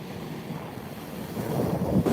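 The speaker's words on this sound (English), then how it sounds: "Another pan of the Pacific Ocean" Pacific Ocean off West Maui, with wind buffeting the microphone over a low roar of surf, swelling louder toward the end as waves break nearby.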